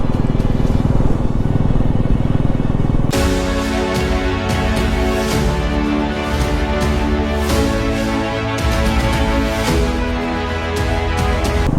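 A heavily loaded motorcycle carrying a pillion rider cruises on a highway between Delhi and Jammu, its engine droning steadily and loudly with constant wind roar, close to the rider throughout.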